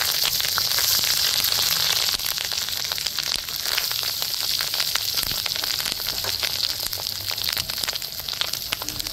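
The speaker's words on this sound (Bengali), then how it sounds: "মাছের ডিমটা খুব ভালো মতো ভাজা হয়ে গেছে" Fish roe being fried in oil, a continuous dense sizzle close to the pan with frequent small crackles and pops and no voices.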